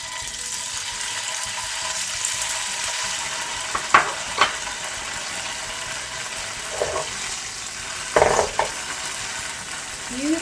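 Tofu fries in a pan over medium heat with a steady sizzle, joined by several sharp clicks and scrapes of the pan or utensils, close and with no talk.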